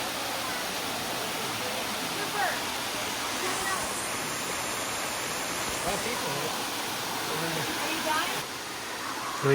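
A waterfall roars nearby as a dense, unbroken rushing wash of water noise at steady loudness, with a person speaking briefly over it.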